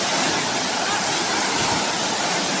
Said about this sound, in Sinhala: මේ තමයි කොළපතන ඇල්ල.